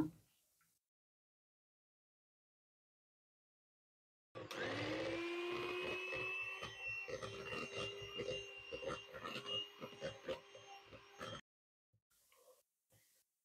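Electric mixer whipping cake batter with eggs for a chocolate halva cake, a loud steady whine that starts abruptly after silence, then turns rattly and uneven as the beaters knock the bowl, before cutting off.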